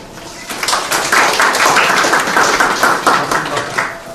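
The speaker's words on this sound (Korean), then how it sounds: "박수로 맞아주세요." Audience at a Korean university talk applauding a speaker from Gwangju University onto the stage, a steady dense patter of clapping lasting a few seconds and fading slightly at the end.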